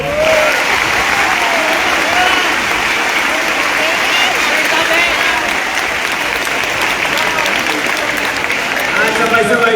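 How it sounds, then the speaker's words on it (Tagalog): A large audience at a junior high school commencement gives the teachers loud, sustained applause, a dense and even roar of clapping with some crowd voices mixed in and no pause. "pwede bang itodo ninyo ang palakpak ninyo sa inyong mga guro?"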